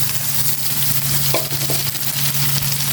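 Cooked rice is tipped into a pan and stir-fried with garlic into garlic fried rice, giving steady close sizzling with scraping and stirring clatter throughout, and no talking.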